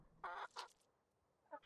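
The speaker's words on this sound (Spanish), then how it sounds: "Tiene gallinas, tío." Chickens clucking in the video game ARK, a few short nasal clucks close by and fairly faint over a quiet background hum, with no talk.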